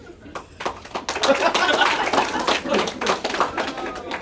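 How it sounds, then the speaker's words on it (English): A small comedy club audience claps at a stand-up roast show. The applause is scattered and uneven, building from a few claps into a steadier burst, with light laughter and chatter underneath. "Round of applause,"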